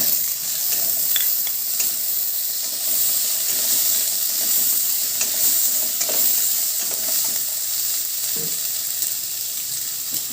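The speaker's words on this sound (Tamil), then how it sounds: "வெங்காயம் நல்லா வதங்கிடுச்சு." Chopped onions sautéing and being stirred in a pan as greens kadaiyal is cooked, a steady soft sizzle and hiss with occasional light stirring scrapes, close and continuous, no voices.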